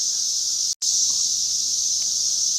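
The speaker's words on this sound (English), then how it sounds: "these cicadas are going nuts" Cicadas drone loudly in trees, a dense, continuous high-pitched buzzing that stays close and steady throughout, broken by one brief dropout of silence.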